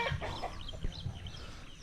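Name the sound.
bird calling, likely a chicken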